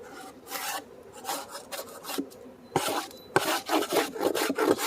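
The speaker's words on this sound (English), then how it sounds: "I'm going to take my hive tool and scrape this down." A metal hive tool scrapes across a wooden beehive inner cover in repeated rough rasping strokes, close and fairly loud, with short pauses between the strokes.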